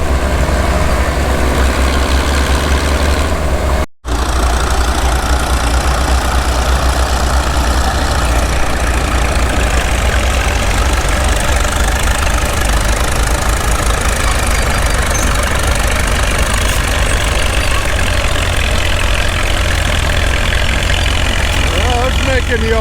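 An old Caterpillar D2 crawler tractor lugs hard under load, likely pulling a subsoiler, with a loud, steady, low engine drone throughout and one momentary dropout.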